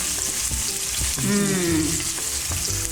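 Garlic, onion and ginger fry in a pan for adobong pusit with a loud, crackling sizzle close by, stirred a few times, while a voice briefly hums along.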